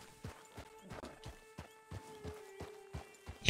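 Horse hooves clip-clop at a walking pace in the video game Red Dead Redemption 2, about a dozen soft, evenly spaced thuds heard close, over a faint tonal game ambience.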